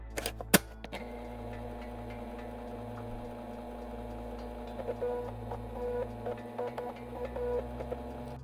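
A 5 1/4 inch floppy disk drive installs software, whirring and ticking with irregular head-seek clicks over a steady low motor drone, preceded by a couple of sharp clunks, near and moderately loud.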